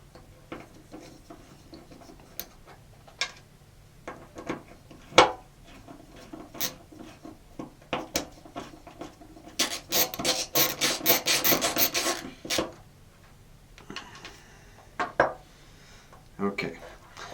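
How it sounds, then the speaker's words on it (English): Screws being backed out of relay screw terminals on an Arduino relay project, with small metallic rasping, clicks and scraping at close range, a denser grinding stretch midway, with no talk over it. "Take the screws out."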